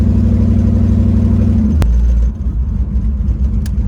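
A cammed Camaro F-body V8 runs loud and close after a cold start, its lumpy, choppy idle steady throughout, with a brief sharp click near the middle.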